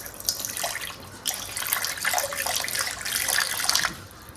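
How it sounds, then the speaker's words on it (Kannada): A kitchen water tap runs steadily in a steady, close rush of flowing water, with brief splashy surges, heard while an egg masala is being prepared. "ಅದಕ್ಕೋಸ್ಕರ ನೀರು ಆನ್ ಮಾಡೋದು."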